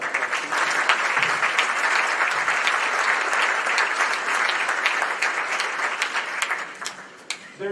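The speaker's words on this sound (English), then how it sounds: "How about a round of applause?" A sustained round of audience applause for city council members at a State of the City address, broad and dense clapping from a large crowd that stays even before tapering slightly at the end.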